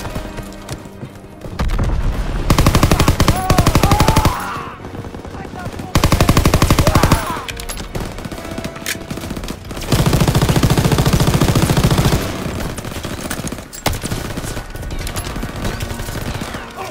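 Machine gun fire from a D-Day beach landing mission in Call of Duty WW2, loud sustained bursts in several long stretches with shorter gaps, shouted voices and battlefield noise in between.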